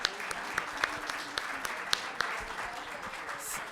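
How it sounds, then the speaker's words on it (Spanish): Scattered applause at the close of a medical symposium on sudden cardiac death, faint, distant clapping with a few distinct sharp claps standing out over a low room murmur. "Un aplauso a todos los ponentes."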